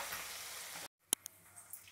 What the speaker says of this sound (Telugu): ఇప్పుడు అల్లం ముక్కలు వేసేసి తాలింపు వేసేస్తున్నాం.